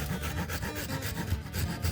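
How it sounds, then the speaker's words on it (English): A hand rasp files away at a piece of scrap wood, giving a continuous coarse rubbing that comes in quick, regular strokes, close and fairly loud with no talking. "So I'm going to just keep plugging away at it with the rasp."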